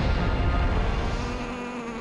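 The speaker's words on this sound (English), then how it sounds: "this guy is just making, like, bee noises. Somewhere between bee and sheep noises." Steady bee-like insect buzzing in The Legend of Zelda: The Wind Waker, a continuous droning hum with faint sheep-like tones, fairly loud and unbroken, fading slightly at the end.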